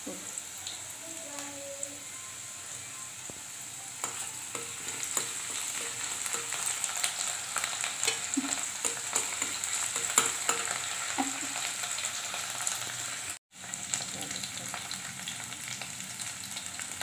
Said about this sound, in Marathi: प्रथम आपण तेलामध्ये कांदा टाकायचा.